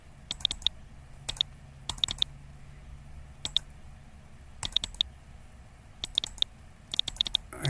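Quick clicks from a computer mouse or keyboard sound in small clusters of two or three, close and crisp over a quiet room hum, with no talk.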